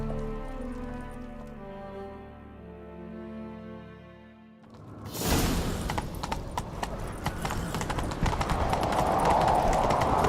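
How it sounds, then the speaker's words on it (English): A horse gallops in the video game The Witcher 3: Wild Hunt, a steady, fast clip-clop of hooves taking over abruptly after a quiet, droning musical passage and continuing loud and rhythmic to the end. "Grab a horse, we'll chase him down."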